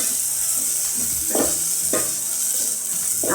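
Red chili powder tossed onto roasted tomato in a hot pan, giving a loud, steady, close sizzle with a few brief scraping stirs and no voices.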